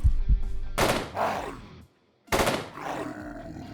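Gunfire from the video game Quasimorph: two loud, sharp shots with a rumbling tail, separated by a brief silence, close and heavy with no talk.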